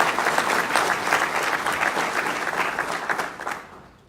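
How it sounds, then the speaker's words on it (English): Sustained applause from a luncheon audience at a scholarship event honoring college-bound students, dense and even clapping that fills the room before fading out at the end. "Please give our honorees a round of applause"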